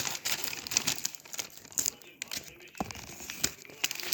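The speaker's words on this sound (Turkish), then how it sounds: "Şimdi keselim. Kesiyoruz arkadaşlar." A package is cut open, giving close, irregular crinkling and tearing of plastic wrap in quick bursts, fairly quiet, with soft voices in the background.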